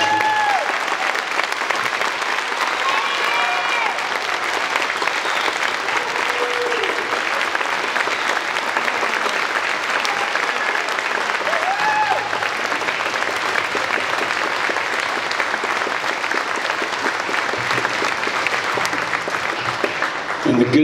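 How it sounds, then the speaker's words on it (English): Sustained applause from an audience at a 2019 school band concert, honoring the eighth grade band members; dense, steady clapping fills the whole stretch with a few faint voices underneath. "could you please stand so we could recognize you and applaud you for your hard work and dedication?"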